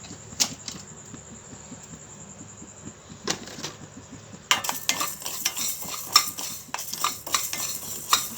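Cumin seeds hitting a pan and being stirred, heard as crackly scraping and clinks, then louder, busier sizzling and stirring after a few seconds. Quiet at first, with short bursts of scraping, and no talk.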